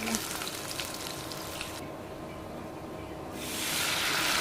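Soft, crackling sizzle of onions frying in oil in a pan where eggs were just fried, a continuous low hiss that swells louder toward the end.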